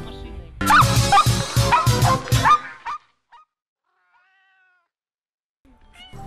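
Stray cats meowing in a burst of several overlapping, fairly loud cries lasting about two seconds, followed by near silence with a few faint chirps and a soft sound at the end.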